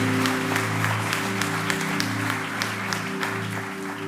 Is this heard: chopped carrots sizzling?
no